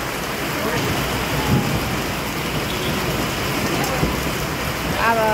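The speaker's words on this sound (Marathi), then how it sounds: "विजेच्या कडकड्यांसह पाऊस चालू आहे." Heavy rain pours steadily outside a roadside shop where people shelter, a dense continuous hiss with a couple of soft low rumbles of thunder; faint voices come through briefly.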